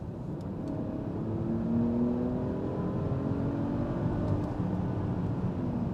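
A 2023 Mercedes-Benz GLS 450 with 362 horsepower accelerating in sport mode, a steady, muted engine drone rising gradually in pitch from inside the cabin, with no talking.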